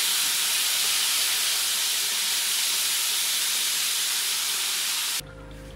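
Breaded chicken frying in hot oil makes a loud, steady hiss and sizzle close by that stops abruptly near the end, with no talk.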